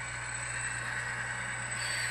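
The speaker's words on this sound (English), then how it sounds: "let's bring our first train through the ScaleSync tunnel and just see how fast we're going" A model train on a layout passes through a ScaleSync speedometer tunnel at about a quarter throttle, giving a steady, even running hum with a constant high whine and no break across the short stretch.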